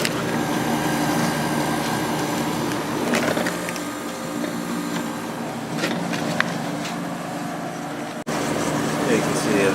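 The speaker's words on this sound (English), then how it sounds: "Such a smooth sounding compressor in this thing." A Whirlpool 40-pint dehumidifier's compressor runs with a steady, smooth hum and a whirring fan, the sound close and constant, with a few faint clicks and knocks near the end.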